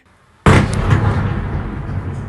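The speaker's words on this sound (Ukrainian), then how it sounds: "Місцеві мешканці пишуть, що вибухи лунали у різних частинах міста." A single powerful explosion goes off in Odesa during a Russian attack on the city, a sudden loud blast after near silence that rolls on as a long, dense rumble and echo.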